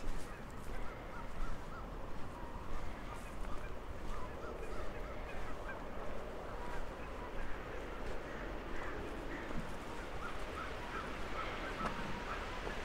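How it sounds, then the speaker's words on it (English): Crows call among the rocks of a low-water river channel in Livingston, Montana, their harsh repeated caws fairly faint and partly buried under continuous rushing wind and water noise. "There's some crows down here in the rocks."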